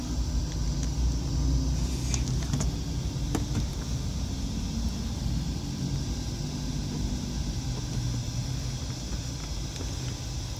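A car engine idles at 800 RPM, a steady low rumble heard close with faint higher mechanical hiss and a few small clicks, with no one speaking.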